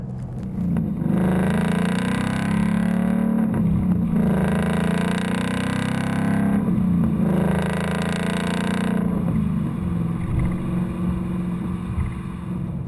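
Ford Mustang GT, 2015-2017 model years, with an MRT KR axle-back exhaust, revving in repeated swells, a loud deep exhaust roar that rises and falls several times, heard alone.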